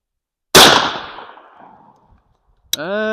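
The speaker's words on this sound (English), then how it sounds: "here is the 32 gauge, copper-plated 6s, 3/4 ounce" A 32 gauge shotgun fires a 3/4 ounce load of copper-plated number 6 birdshot with no shot cup: one sharp, loud report that rings out and decays over about a second and a half, followed by a voice.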